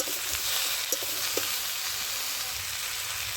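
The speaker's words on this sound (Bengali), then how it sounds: "তো সবজিটা আমার ভালো করে কষানো হয়েছে" Vegetables sautéing in a pan with salt and turmeric, giving a steady, close hiss of frying with a few faint knocks of a spatula stirring them.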